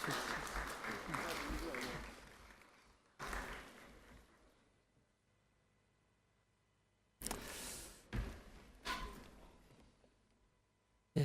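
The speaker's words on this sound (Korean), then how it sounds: "예, 박수 부탁드리겠습니다." Applause at a university's 35th anniversary ceremony rises in several bursts separated by quiet gaps, fairly distant and moderate in level, each swell fading out.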